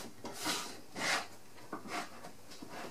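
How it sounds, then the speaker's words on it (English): A lidded fermenter holding cold water and sanitizer is shaken hard, giving several rhythmic sloshing bursts with small knocks between them. The sound is quiet and close, and no one speaks. "give it a really good shake,"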